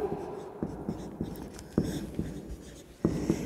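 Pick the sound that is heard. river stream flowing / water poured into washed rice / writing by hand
writing by hand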